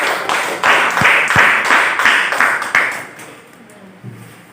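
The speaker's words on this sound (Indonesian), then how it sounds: "Tepuk tangan dulu." A class of students claps hands together in a classroom, a short burst of quick, fairly loud clapping with a few distinct sharp claps, tapering off into quiet after about three seconds.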